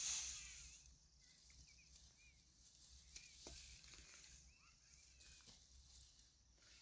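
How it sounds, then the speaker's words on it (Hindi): Faint, soft crunching and rustling as rice paddy stalks are cut by hand with a sickle outdoors, with light chirps over a low background hum. "हम लोग का यही रहा हँसुआ, इसी से काटते हैं हम लोग धान।"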